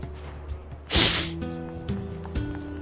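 A game character with the sniffles lets out a short, sharp snort-like sniff, loud and close, breaking through quiet background game sounds.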